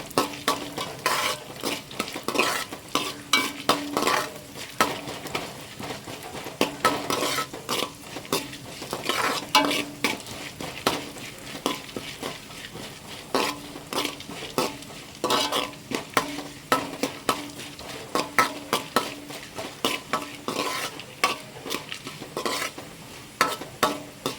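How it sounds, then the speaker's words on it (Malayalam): Chana dal and cashews frying in a pan give a dense, continuous sizzle, while busy stirring adds constant utensil scrapes and clatter against the pan, close up and without any voices. "പിന്നെ കടലപ്പരിപ്പ്, കൂടെ അണ്ടിപ്പരിപ്പ്, ഇത്രയും കൂടെ ചേർത്ത് ഒന്ന് വഴറ്റി മൂപ്പിച്ചെടുക്കണം"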